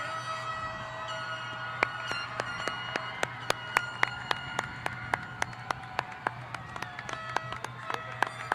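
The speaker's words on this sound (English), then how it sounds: "Can we get one more round of applause for our graduates?" Applause for graduates at the Ft Walton Beach High School 2024 graduation, with sharp, regular claps up close standing out over a low, steady hum and a distant crowd.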